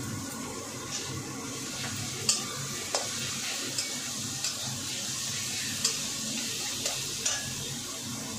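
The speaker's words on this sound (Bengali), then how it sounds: "এবার আমি এই যে রসুন আর লঙ্কাটা বেটে রেখেছি এটা দিয়ে দেবো।" Ground garlic and chili paste frying with browned onions in oil, a steady close hiss with occasional sharp spatula taps and scrapes on the pan at irregular intervals, no voices.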